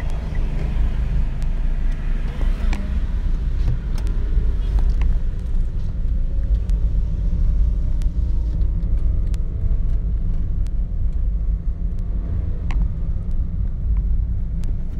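A steady low road rumble fills the inside of a moving car for the whole stretch, with faint knocks and occasional speech beneath the engine and tire noise.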